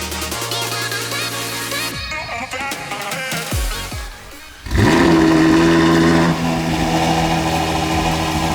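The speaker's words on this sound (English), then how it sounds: "We can then start the car for the first time and we can show you exactly how it's going to sound" A Ferrari 812 Superfast engine with a Novitec straight-pipe exhaust rumbles loud and raw, drops briefly, then roars back up and settles into a harsh, steady idle.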